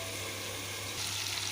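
Cauliflower with prawns fries in a pan, giving a soft, steady sizzling hiss for a brief moment with no voices.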